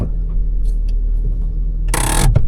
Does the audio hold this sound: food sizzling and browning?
no